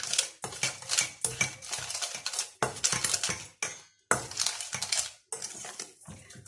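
Pomelo salad is tossed and mixed by hand in a bowl, a run of close crunchy, clattering bursts in irregular rhythm with brief pauses between.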